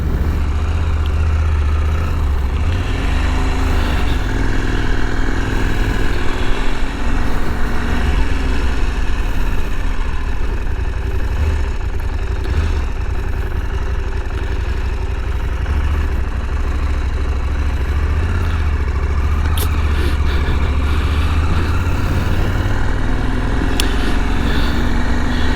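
KTM 890 Adventure R motorcycle engine running steadily while riding, a continuous loud low drone with wind rumble throughout and no clear shifts.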